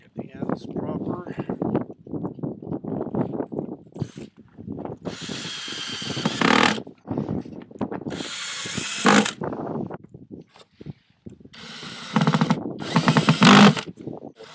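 Power drill driving screws into a basic homemade solar oven, several loud whirring bursts of a few seconds each separated by pauses, with someone talking in between.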